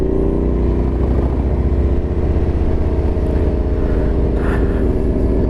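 A group of Harley-Davidson motorcycles on a ride toward Carters Lake in the Blue Ridge Mountains, engines droning loud and continuous with a steady low rumble and no talk over it.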